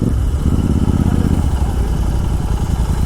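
A tuned Royal Enfield GT 650 twin-cylinder motorcycle runs close by, its engine a steady, loud, low throbbing idle with a rapid pulsing beat and faint mechanical clatter throughout.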